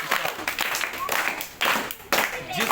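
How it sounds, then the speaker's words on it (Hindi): A school class clapping for a student after weekly test marks are read out, bursts of hand claps from a group of children mixed with talking, loud and close, with uneven pauses between bursts. "मीनू बहन के लिए ताली बजाओ"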